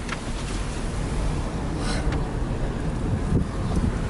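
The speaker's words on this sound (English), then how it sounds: "It's a little windy," Steady outdoor wind on an overcast, stormy day in Miami during Hurricane Ian, a broad continuous rush buffeting the microphone at moderate level, with a few brief gusts and no talking.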